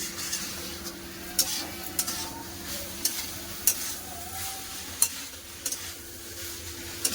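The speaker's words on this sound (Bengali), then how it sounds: "ভালোভাবে তরকারিটা কষে নিয়েছে আবার জল দিয়ে দেবো" A pumpkin and potato curry is stir-fried in a pan: a steady low sizzle runs throughout, with sharp scrapes and clinks of a spatula against the pan every second or so, close and clear, with no talk.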